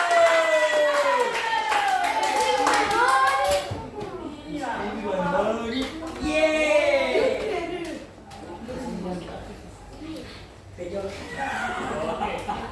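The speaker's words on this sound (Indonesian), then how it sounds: "Tepuk tangan lagi" A school class bursts into clapping at the start, quick crowded hand claps that stop after a few seconds, followed by a teacher and children talking and laughing.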